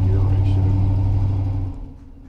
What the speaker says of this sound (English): That whining noise is transmission just coming down because of the gear ratio